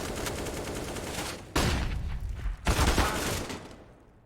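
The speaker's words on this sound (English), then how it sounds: "Nice shot by Enters" Gunfire from a Counter-Strike esports match on the Mirage map: a rattling stream of shots breaks into two loud, dense bursts before fading out.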